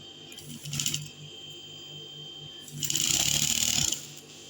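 A sewing machine stitches a folded star-shaped neckline in two bursts, a short run and then a longer, louder whirring run close by, with quiet handling between.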